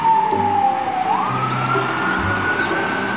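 A toy fire truck's electronic siren wails steadily, the tone sliding down and then climbing back up, close and fairly loud with faint background noise underneath.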